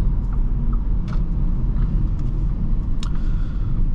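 A 2021 Audi A5 2.0T Sportback with a four-cylinder engine cruising, heard from inside the cabin as a steady, low road and engine rumble with no break.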